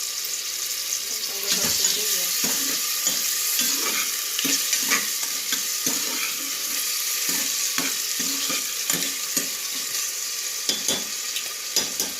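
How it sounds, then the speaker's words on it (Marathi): Chopped tomato sautéing in a pan, a steady bright sizzle with frequent spatula scrapes and taps, close and fairly loud throughout. "टोमॅटो थोडा परतून घेतो झाकण ठेवून."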